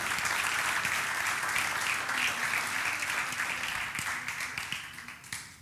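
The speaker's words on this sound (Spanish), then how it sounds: "Fuerte aplauso al Señor por su palabra." A church congregation applauds steadily for several seconds, a dense wash of many hands clapping that tapers and thins toward the end.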